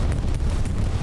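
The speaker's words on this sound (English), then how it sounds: "thank God there was an explosion" A bombing-run explosion in a war video game gives a loud, dense, low roaring blast that fills the whole second without pause, heavy and rumbling like a close detonation.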